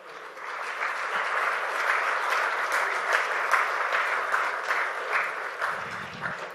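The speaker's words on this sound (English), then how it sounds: "I request the audience to welcome our Chief Guest with a big round of applause" Audience at the CEOs' Conclave of Petrotech-2016 in New Delhi applauding to welcome the chief guest, steady, sustained clapping from a large indoor crowd lasting several seconds before tapering off.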